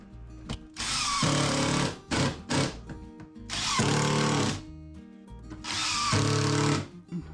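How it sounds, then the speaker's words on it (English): A power drill driving 3/4 inch screws to join a workbench shelf edge, three loud whirring bursts of about a second each, separated by short clatters and pauses. "I've got some 3/4 inch screws, so I'll just put it together with those"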